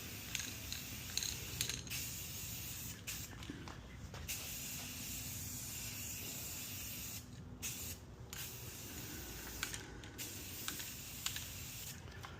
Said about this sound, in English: We'll give it one final coat of spray paint and call her good.